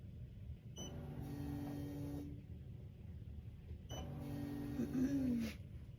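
Embroidery machine stitching a glitter HTV reindeer design on a T-shirt, running in two steady bursts of buzzing with a pause between, close and moderately loud, no talk.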